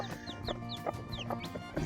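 Hens clucking close by in a backyard chicken coop, a string of short, sharp clucks repeating in an uneven rhythm, fairly faint, with no talking.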